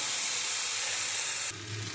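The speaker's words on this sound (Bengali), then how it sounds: "পেঁয়াজ কলিটা আমি ভেজে দিচ্ছি" Onion stalks frying in hot oil in a pan where eggplant is also being fried, a loud steady sizzle close up that drops to a lower hiss near the end.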